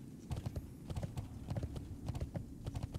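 Hooves of a horse mount in World of Warcraft clip-clop in a quick, steady rhythm, close and clear throughout, with no talking over them.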